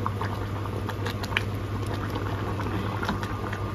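Pasta boils steadily in a pot of salted, buttered water, a dense continuous bubbling and light patter close by, with a low steady hum from the stove beneath.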